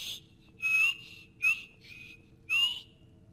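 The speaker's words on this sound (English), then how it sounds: "Apparently they do not like me whistling." Short whistled notes from a character in the Skyrim video game, three clear high tones with gaps between them, sounding over a low steady game background hum.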